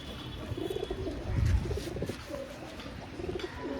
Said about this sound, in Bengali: ম্যাড্রাস পায়রা